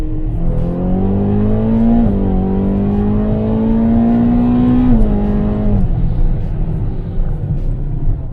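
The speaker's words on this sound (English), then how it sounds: "Just a little pull here on the straightaway." A 2013 Ferrari California pulls hard down a straightaway, its engine note loud and close from inside the car, climbing in pitch through a gear with a brief dip at each shift, with no talk over it.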